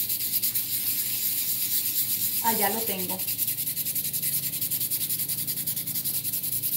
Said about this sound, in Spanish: Bájenle volumen si les está molestando el sonido de la lija